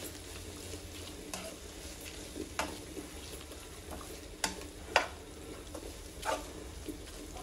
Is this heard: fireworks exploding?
no